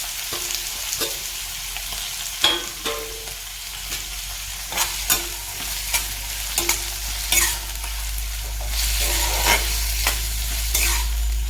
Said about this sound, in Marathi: आता व्यवस्थित आपण हे परतून घेत आहे कांदा भाजून घेत आहोत